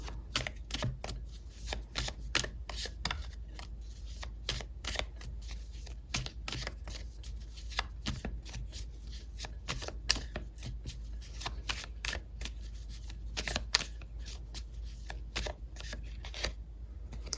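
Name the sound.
shuffling tarot cards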